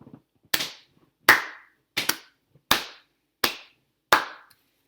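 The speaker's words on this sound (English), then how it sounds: "So I clapped my hands and stamped my feet." Seven sharp claps in a short rhythmic series, two close together as a quick double, loud and near with no talking; no separate stamping thuds stand out.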